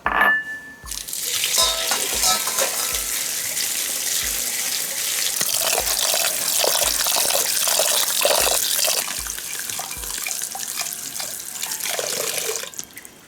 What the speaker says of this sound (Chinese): 芝麻来洗一下，有些有沙。